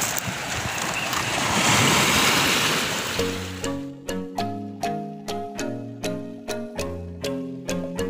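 Sea waves rush in with a broad, roaring wash that swells and fades over a few seconds, then give way to a melodic tune with evenly spaced plucked notes.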